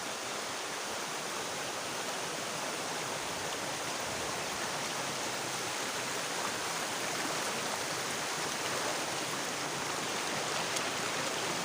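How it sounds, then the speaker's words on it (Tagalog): Continuous roaring rush of fast-flowing river water, loud and steady throughout with no pauses, filling the whole clip like nearby rapids. "maingay dahil malakas yung agos sa tubig ng ilog"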